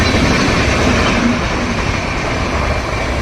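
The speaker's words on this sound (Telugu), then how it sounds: "ఇప్పుడు వచ్చింది రైలు అయితే" A train rolls past a railway level crossing thick with waiting vehicles, a loud, steady rumble and roar heard close by without a break.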